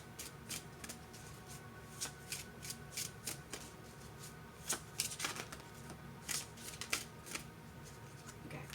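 A deck of oracle cards is shuffled by hand close by, giving quick repeated riffling bursts and soft slaps in an irregular rhythm throughout.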